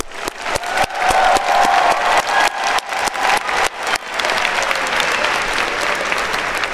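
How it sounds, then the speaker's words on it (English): Loud, close applause and scattered cheering erupt from a graduation ceremony crowd, with sharp individual claps standing out early before the clapping blends into a dense, sustained roar. "I want to give yourself all a round of applause."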